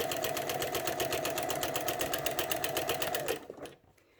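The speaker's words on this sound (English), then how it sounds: "Go ahead and sew some more." Sewing machine running steadily with a walking foot as it stitches through a quilt, a close, fast even whir of needle strokes for about three seconds before it stops and falls quiet.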